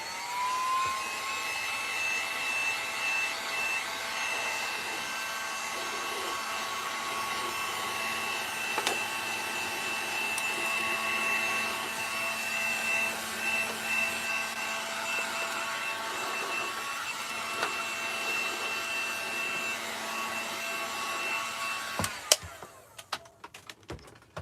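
A dryer blows on the edge of a DIY wooden windmill with a steady, close, whining hum that holds level for about twenty seconds, then cuts off abruptly with a few clicks and handling noises.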